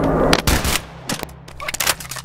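Pistol gunfire in the VR game Boneworks: a quick burst of sharp, loud shots in short clusters with brief gaps, close and dominant, with faint talk in the background.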